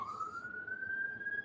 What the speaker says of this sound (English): If you hear sirens going on right now,